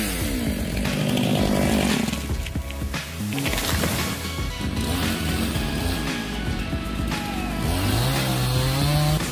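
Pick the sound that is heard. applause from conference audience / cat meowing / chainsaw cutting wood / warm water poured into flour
chainsaw cutting wood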